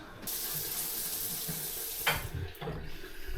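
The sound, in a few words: water flowing through a bathroom fixing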